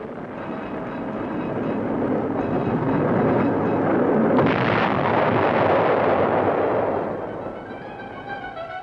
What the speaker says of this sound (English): The Dragon missile is designed to replace the 90-millimeter recoilless rifle and may be used by infantrymen